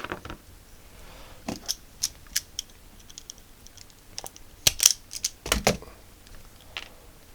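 Side cutters snip through the end of an Atari power supply cable, a handful of sharp, close clicks and snaps scattered across a quiet background, with louder cuts clustered near the end.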